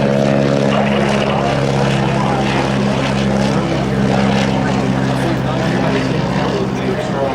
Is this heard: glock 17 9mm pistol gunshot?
no